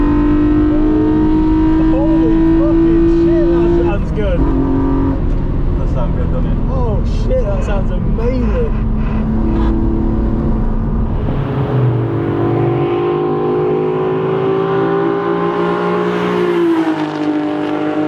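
Naturally aspirated Toyota Supra engine with individual throttle bodies on track at Oulton Park: loud, close in-car roar with rising and falling revs, gear changes and throttle blips, droning steadily at high volume throughout.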